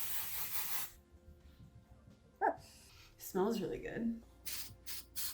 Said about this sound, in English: I'm just gonna spray it in my hair and we're gonna see what happens.